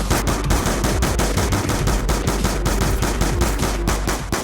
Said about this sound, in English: So what we did there was shoot off all the heads of the mannequins on the map.